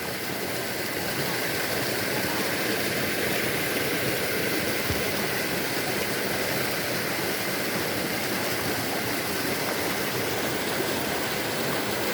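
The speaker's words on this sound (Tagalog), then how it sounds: "Yan pong tubig na yan, galing po yan sa bundok." Mountain water flowing at a garden in Bulusan, a loud unbroken roar of rushing stream water heard up close and alone for the whole stretch.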